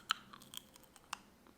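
Hard caramel candy, overcooked until brittle, crunched between the teeth: a few sharp, close crackling bites with quieter chewing between them.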